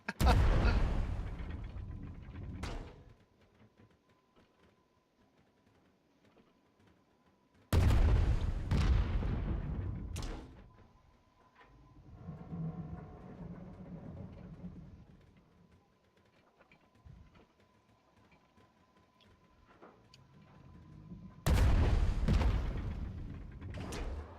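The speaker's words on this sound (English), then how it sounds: "I was actually just coming up here to get on the cannon and shoot it" A cannon aboard a flying ship in Worlds Adrift fires three heavy booms spaced several seconds apart, each with a long rumbling decay, with mechanical creaks and faint game sounds between the blasts.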